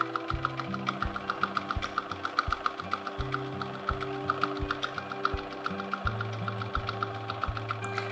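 Domestic sewing machine stitching ripple quilting through fabric, a steady fast mechanical whirr with regular needle clatter, close and continuous, pausing briefly at moments.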